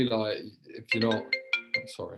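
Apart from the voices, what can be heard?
mobile phone ringtone going off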